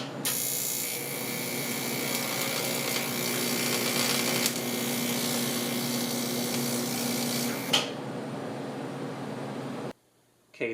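Tack welding on an intercooler side clamp for a 1976 Mazda RX-5 Cosmo, a loud, steady electric buzz-hiss running about eight seconds with a brief crackle, then stopping before a short silence.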